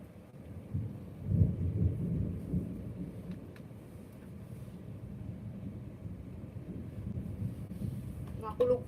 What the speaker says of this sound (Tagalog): kulog pa.